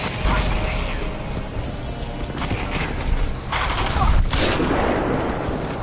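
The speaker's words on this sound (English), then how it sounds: "Oh, that's a sniper rifle." Sniper rifle fire in the shooter game Crysis 2, dense crackling gunfire and sharp bursts over a steady loud combat din, with a heavier crack near the end.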